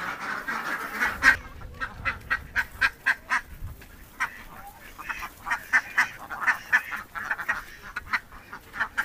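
Village farm ducks kept on a pond quack in repeated bursts, some close and loud, others softer, with a steady rhythm of calls running through the whole stretch.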